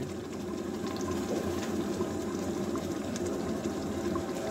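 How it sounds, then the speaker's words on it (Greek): Tomato sauce pouring into a pot of bean soup with sujuk, a steady liquid rush heard close and continuous with no talking. "θα ρίξουμε τη σάλτσα μας"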